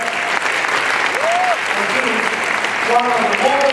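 Audience applause fills a fundraising dinner hall, a steady dense clatter of clapping hands throughout, with brief voices rising over it near the end.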